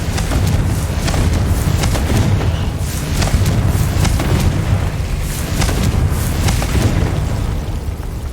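Confringo blasting spells in Hogwarts Legacy go off as a dense, continuous run of loud booming explosions and crackling bursts, repeated without pause across the whole stretch, with no talk.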